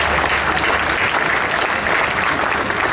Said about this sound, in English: Could we have one more round of applause for our life member?